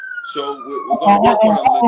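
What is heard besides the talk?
ambulance siren passing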